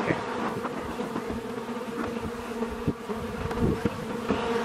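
Honeybees swarm around an open hive during an inspection, foragers returning loaded with pollen, producing a dense, continuous buzz with scattered louder passes close by and no talking.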